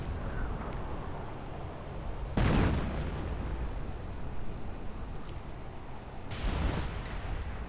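A 105 mm artillery shell landing on infantry in a strategy video game, two heavy explosive bursts several seconds apart, each a sharp loud impact fading quickly, over a low rumbling battlefield background.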